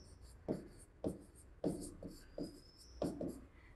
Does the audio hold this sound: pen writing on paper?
yes